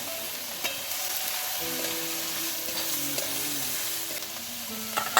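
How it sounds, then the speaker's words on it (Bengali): Onions sizzle steadily in a hot pan over a wood-fired clay stove, with light stirring clatter and a few sharp knocks near the end, close and unaccompanied by talk. "পেঁয়াজটা খুব তাড়াতাড়ি ভাজা হয়ে যাবে"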